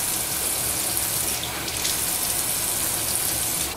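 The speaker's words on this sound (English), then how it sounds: "First things first, gotta wash the face." Running tap water gushes steadily into a sink for a face wash, a loud, continuous broadband splash with small shifts in flow and no voices.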